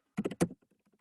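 Several quick clicks of fingers typing on a computer keyboard, a brief burst of close keystrokes followed by faint scattered taps, no talking.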